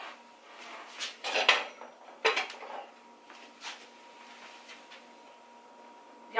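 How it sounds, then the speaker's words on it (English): Cooked turnips are drained from a pot in a kitchen sink, with metal pot clanks and clattering knocks arriving in scattered bursts over a quiet background. "I'm going to drain them in the sink."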